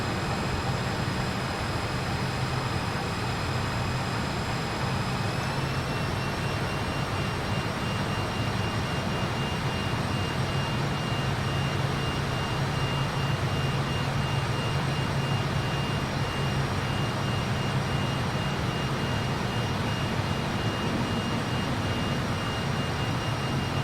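Airliner jet engines in a flight simulator game roar as a steady, unbroken broadband rush with a thin high whine on top, constant and loud throughout.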